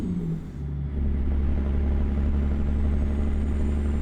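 Kenworth needle-nose truck in American Truck Simulator, a deep steady diesel drone that climbs in pitch after a brief gear-change dip, loud and close, with no talk over it.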